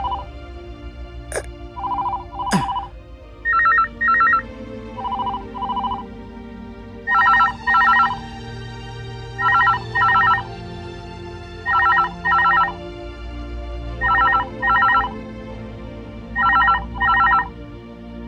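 A telephone rings in repeated double bursts, about seven rings spread evenly through the scene, loud and close over quiet room tone and faint background music. A couple of sharp clicks come near the start.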